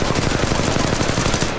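Rapid automatic gunfire in the mobile battle royale game Apex Legends Mobile, a dense continuous burst of shots firing loudly at a steady fast rhythm for the whole stretch.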